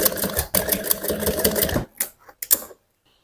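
A sewing machine stitches a bra cup during bust caging, a steady mechanical run for nearly two seconds, then a few short separate bursts before falling silent.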